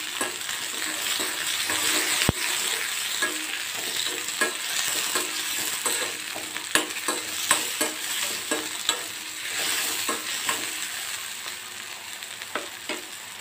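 Tomatoes fry lightly in a pan with a continuous sizzle, punctuated by frequent sharp clicks and scrapes of a spoon or spatula against the pan, plus one louder knock early on.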